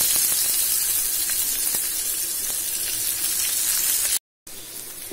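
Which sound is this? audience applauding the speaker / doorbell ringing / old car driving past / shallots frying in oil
shallots frying in oil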